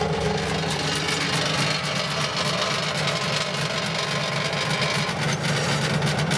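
Compressor of a vintage refrigerator running after rewiring, a steady loud droning hum with rattly vibration held evenly throughout, no voices.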